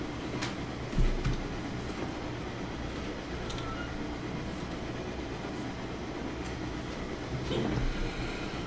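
A train in a train video game runs along its rails with a continuous rumbling, rattling drone and faint clicks, steady and fairly close, no voices.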